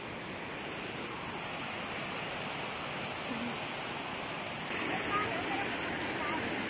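Water rushes over a broken village road in a steady broadband roar, loud and close throughout, and swells slightly toward the end, with faint voices underneath.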